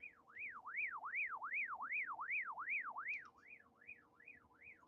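A radio's alarm, set off from its top button, sounds a loud warbling tone that sweeps up and down about a dozen times in a steady rhythm, alone and close.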